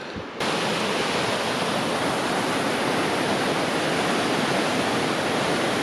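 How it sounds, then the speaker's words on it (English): A big waterfall with tall cascades roars as a steady, loud, dense wash of falling water, constant from start to finish after a brief quieter moment at the very beginning. "Pretty good waterfall. It's very big with quite impressive cascades"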